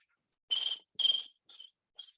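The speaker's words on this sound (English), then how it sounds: "crickets in an empty room" Crickets chirping in four short, bright trills, the first two longer and louder and the last two brief and fainter, with silence between and no other sound.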